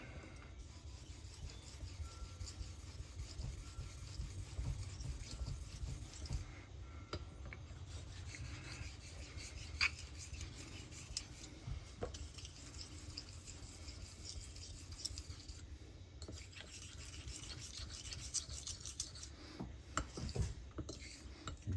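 A straight razor is honed with medium pressure on a Thuringian German waterstone, giving soft, repeated rubbing and rasping strokes, quiet and close, with occasional faint clinks and no talking.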